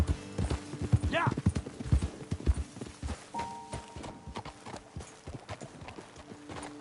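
Horse hooves clip-clop in Red Dead Redemption 2, with several close, loud, irregular steps that slow and fade, a brief whinny, and voices talking over them.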